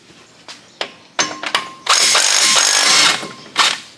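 A power tool drives a socket on the brake caliper bolts of a Jeep WJ, with a few short bursts and clicks and then a sustained loud whirring run, followed by one last short burst, all close up.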